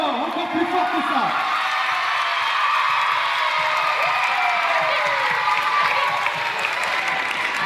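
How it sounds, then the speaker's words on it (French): A crowd applauds and cheers for junior dance performers from a dance company at a community show, dense sustained clapping with whoops throughout and a voice calling out over it near the start. "On peut les applaudir bien fort, encore plus fort que ça."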